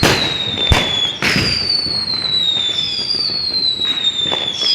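Diwali-style night firecrackers in Punjab pop and crack sharply in a scattered sequence, with whistling rockets streaking overhead and a constant backdrop of distant bangs.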